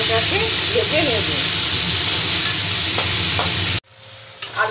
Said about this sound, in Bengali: আমি এটাকে ভেজে নেব।